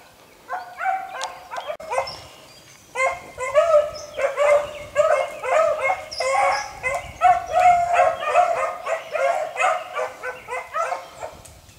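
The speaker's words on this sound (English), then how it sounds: "they might turn into some good pack dogs" A pack of running dogs bark and yip excitedly, many overlapping barks in a busy, fairly close chorus that builds and continues steadily, with no talking.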